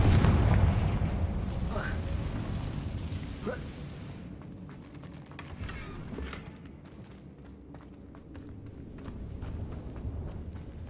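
Bombarda and Confringo spell blasts in Hogwarts Legacy gameplay, a loud rumbling explosion at the start that fades into lingering debris and ambient rumble, with a few smaller bursts after.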